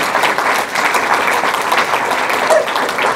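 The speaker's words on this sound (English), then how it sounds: "you should give yourself a very loud round of applause for Sean" Loud, sustained applause from a crowded audience at an award presentation, a thick steady roar of many hands clapping with no gaps across the whole stretch.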